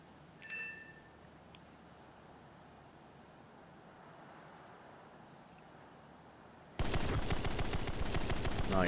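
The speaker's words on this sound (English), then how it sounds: "No, he's shooting off the rest of his ammo." Machine gun fire in War Thunder: a faint, distant combat rumble with a brief early crack, then a loud, dense burst of rapid automatic fire begins abruptly near the end and continues.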